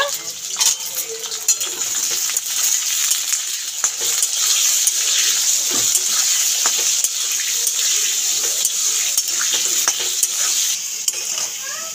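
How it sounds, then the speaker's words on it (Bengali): Potato pieces fry steadily in hot oil with turmeric in a pan, a loud continuous sizzle with frequent stirring scrapes and small clinks of the spatula throughout. "দিয়ে হলুদ দিয়ে আলুটাকে লাল লাল করে ভেজে নেব"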